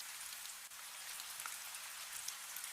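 Steady rain falls outside, a soft continuous hiss of drops pattering on surfaces, faint and even, with no voices.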